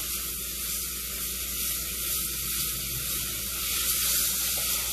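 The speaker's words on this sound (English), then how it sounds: "I'm gonna melt some butter in the pan." Butter melting in a pan sizzles with a steady, bright hiss that holds at an even level throughout, close and alone without talk.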